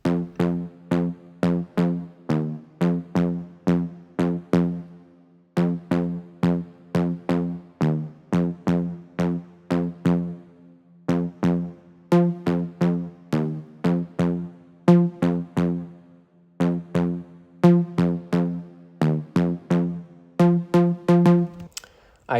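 An intro melody for a dancefloor drum and bass track plays as a steady, plucky synth pattern of short repeated notes in a bouncing rhythm, phrases separated by brief gaps, clear and alone.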